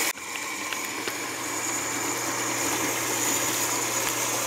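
A Goodman 90+ gas furnace with no heat, apparently blocked, hums steadily at close range after a brief click at the start, a continuous mechanical drone with faint watery sloshing beneath it.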